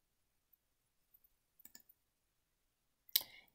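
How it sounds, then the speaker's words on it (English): A computer mouse clicks the sign-in button on a login screen: a few faint, scattered ticks, then one sharper, louder click near the end in an otherwise silent room. "click sign in"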